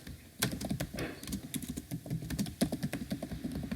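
Code typed on a computer keyboard while setting up Node.js with TypeScript and Express, quick irregular clicking keystrokes close up and fairly quiet, with no talking.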